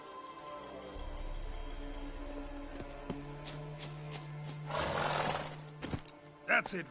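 Roach the horse in The Witcher 3 gives a short neigh near the end after soft, steady hoof clip-clops, with a faint sustained tone and quiet game ambience underneath.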